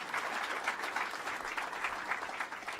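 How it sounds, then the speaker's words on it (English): Round of applause from a crowd at a government announcement in Suffolk County, Long Island, a steady dense wash of clapping that holds evenly throughout with no talk over it. "Let's give Touro a big round of applause."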